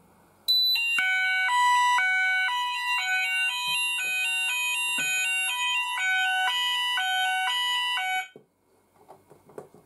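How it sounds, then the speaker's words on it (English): An ESP fire alarm system sounder, wrapped in tissue to damp it, blares a loud alternating two-tone pattern that steps steadily between pitches for about eight seconds, then cuts off abruptly, leaving faint background noise. "I do warn you that this sounder is really loud"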